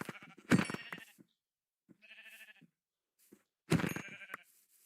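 Sheep in the Minecraft video game bleat clearly three times, with quiet gaps between the calls. The first and last bleats are louder, and the middle one is softer.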